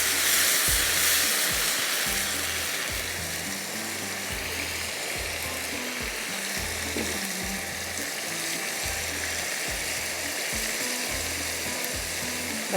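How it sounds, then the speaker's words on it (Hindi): Yakhni masala for street-style yakhni sizzles and fries over a high flame, a steady dense crackle holding throughout with a low rhythmic undertone. "इसको भी मैं थोड़ा भुनाई करती हूँ। यहाँ पर तेज़ आग की है।"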